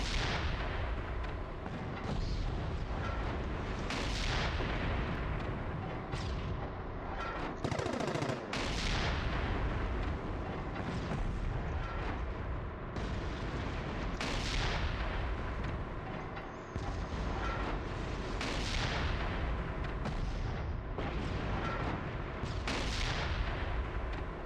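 Naval guns firing high-explosive rounds in a VR game, heavy booming shots repeating every few seconds over a constant dense roar of battle, loud and continuous with no talking.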